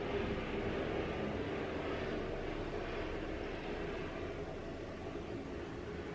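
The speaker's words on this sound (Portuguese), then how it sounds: "agora temos helicópteros" Helicopters fly overhead outdoors, producing a steady broad rumbling drone that holds evenly for several seconds at moderate distance, with no voices.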